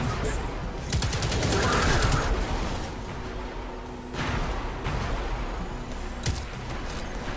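Rapid gunfire in the video game Destiny 2, with dense overlapping bursts and sharp shots through most of the stretch, heard with a voice talking over it.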